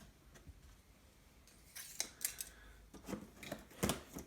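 Sticky packing tape on the box of a Team Corally Radix XP 6S 1/8 buggy is sliced and torn in quiet, close snips and rips, growing into a cluster of sharper crackles toward the end.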